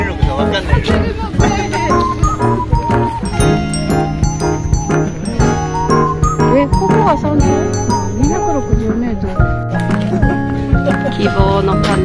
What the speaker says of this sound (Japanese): 希望の鐘。